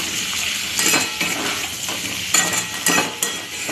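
Prawn curry frying in a pan with turmeric, chilli and salt as it is stirred, a constant close sizzle under repeated scraping and clinking of a spoon against the pan.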